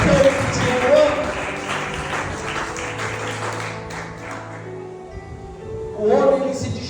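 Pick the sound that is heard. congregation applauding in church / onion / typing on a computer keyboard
congregation applauding in church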